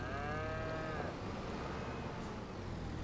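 Cattle in the farming video game Farming Simulator 25 let out one loud, drawn-out moo up close, then a steady low ambient hum continues.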